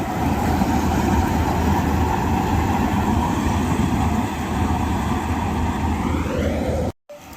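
A combine harvester engine runs steadily after starting, a loud, close, continuous mechanical roar with constant rumble that holds for several seconds before cutting off briefly near the end.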